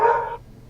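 A single sharp dog bark rings out close and loud, then cuts off quickly into quiet.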